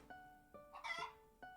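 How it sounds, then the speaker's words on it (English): Chicken in Trails in the Sky the 3rd: short, faint clucks spaced apart, with a brief louder squawk in the middle. "I hope Daniel's gonna try and water the chickens instead of plants"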